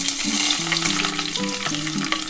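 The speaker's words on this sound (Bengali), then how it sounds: "কড়াটা আমার গরম হয়ে গেছে এর মধ্যে আমি রসুন ফোড়ন দেবো দুটো তেজপাতা দেবো" Garlic and two bay leaves frying in a hot wok of oil as a tempering for a red lentil dal, a steady close sizzle and crackle with a faint tonal hum running underneath.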